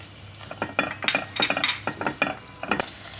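Sliced mushrooms with garlic powder frying in a pan, heard as a rhythmic run of clinks and scrapes from a spatula stirring against the metal over a soft sizzle, close and without talk.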